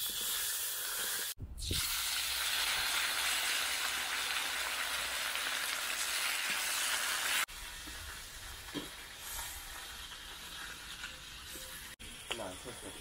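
Venison ribs fry in oil over an open fire, giving a loud continuous sizzle broken by a few knocks and shifts, then a quieter crackling hiss under occasional handling noises.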